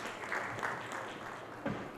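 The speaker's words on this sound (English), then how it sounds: "Kindly welcome with a huge round of applause our moderator" Audience applause at a solar energy conference session welcoming the panel moderator, a steady, moderately distant wash of clapping with a few louder bursts.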